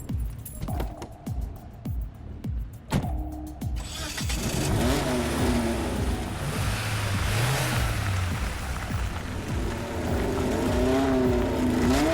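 A fast car engine revs up and accelerates hard, loud and sustained with rising and falling pitch, following a few sharp clunks at the start.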